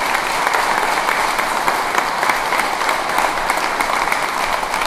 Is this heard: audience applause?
yes